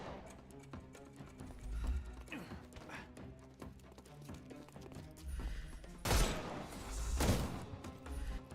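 Gunfire in the video game Sherlock Holmes Chapter One, a rapid fusillade of thumping shots mixed with clattering impacts, with two loud bursts near the end.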